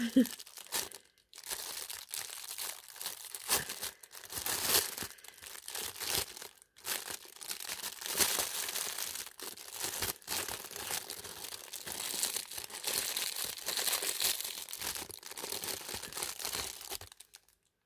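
A crinkly plastic package being opened from a haul of discount-store purchases, with dense crackling and tearing rustles running almost continuously, close and fairly loud, with brief pauses.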